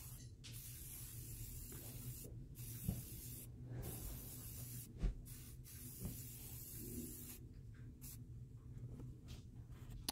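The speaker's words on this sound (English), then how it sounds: "I've given it 2 coats of spray paint" Spray paint can hissing in steady bursts while coating a clothespin sunburst mirror frame, a continuous close airy spray broken by short pauses and a few light knocks.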